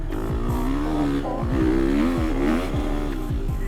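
A Kawasaki Ninja ZX-4RR motorcycle braking hard, its engine note falling and wavering with several quick downshift blips, loud and close for the whole stretch.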